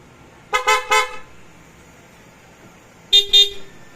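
PIAA aftermarket horn with a selector switch on a Yamaha NMAX V3 scooter, sounding two quick toots, a short pause, then another pair of short blasts, loud and close with nothing else around.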